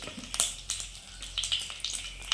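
Chilies frying in hot oil for a chicken kondattam dish: a soft, crackling sizzle with scattered pops and spits across a couple of seconds, fairly close and at moderate loudness.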